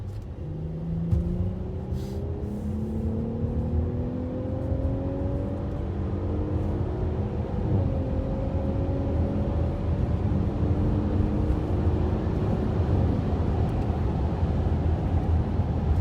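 A car engine pulls hard through several gears, its pitch climbing repeatedly with brief drops between shifts over steady road rumble.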